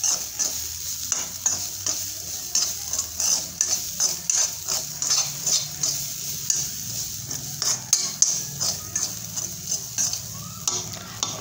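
A spoon stirs a kachori filling of roasted pigeon peas mixed with besan and salt in a pan, giving steady rhythmic scraping and soft sizzling strokes close up, with no talking.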